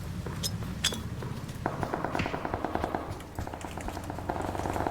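Rapid bursts of automatic gunfire in the PUBG Battlegrounds video game, sharp repeated shots in quick rhythmic volleys with brief pauses, loud and close over a low background rumble.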